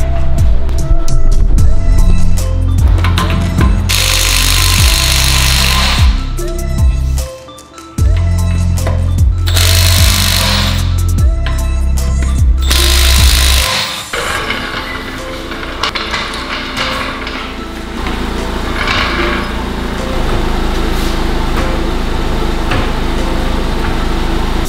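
An air-powered impact wrench breaks loose the lug nuts on an Acura TSX, firing loud, close bursts of rattling hammering in several separate runs over about thirteen seconds before a quieter shop background takes over.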